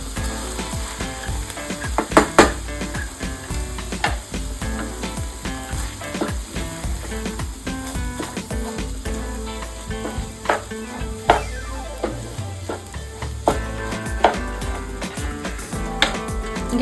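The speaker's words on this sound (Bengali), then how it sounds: "এবার চালটাকে একটু ভালো করে এই মশলার সাথেই একটু ভেজে নেব।" Soaked rice fries with a spiced gravy in a kadai for ilish polao made with coconut oil, giving a steady, close sizzle broken by frequent scraping stirs and clinks of a spoon, with no talk.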